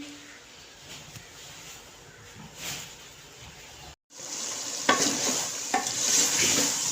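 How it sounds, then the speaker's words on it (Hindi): Spicy turnip and peas curry gets stirred in a pot, with soft scraping and clinks over a gentle sizzle. The sound cuts out briefly, then returns louder with sharper spoon knocks. "हमें अच्छे से मिक्स कर लेना है।"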